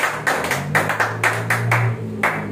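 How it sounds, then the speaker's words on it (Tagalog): Church congregation clapping loudly at a Filipino evangelization gathering, in a few bursts of crisp, sharp claps that stop and restart, close and fairly loud with no talk over them. "Malakas na palakpak sa atin."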